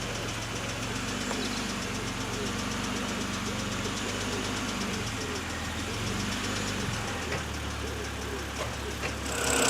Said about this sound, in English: Let's get the engine up to operating temperature so we can get that engine oil nice and warm.